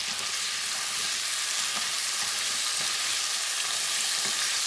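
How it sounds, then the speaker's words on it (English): Carrots and celery sizzle and fry steadily in a pot for a bison stew, a continuous bright crackle with faint stirring scrapes and no talk. "I'm going to add now carrots and celery."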